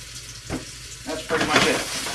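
Mushrooms sautéing in a pan for stroganoff, a short burst of close sizzling that swells louder in the second half, with a couple of stirring scrapes.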